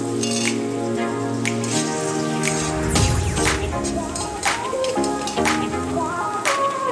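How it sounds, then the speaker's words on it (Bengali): Masala mixture with Kashmiri red chilli powder and salt being sautéed in oil in a pan for a dhaba-style egg tadka, with frying sizzle, spatula clinks and scraping strokes, under a talking voice. "দেখতে পাচ্ছেন আমাদের সমগ্র প্রিপারেশনটি ভালো করে কষানো হয়ে গেছে এবং এর থেকে সুন্দর তেল বেরিয়ে গেছে"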